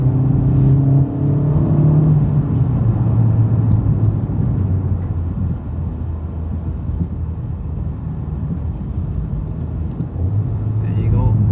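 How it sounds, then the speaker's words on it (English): A Honda Civic Type R FK8 engine, heard from inside the car, gives a continuous low rumble with a rising blip as it automatically rev-matches during a downshift. The engine stays loud throughout, and talk is partly audible. "There you go, rev matching."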